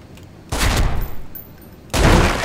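An AUG A3 rifle fires in the video game Special Force 2 in two loud, close bursts, a longer one followed after a brief pause by another, with no talking.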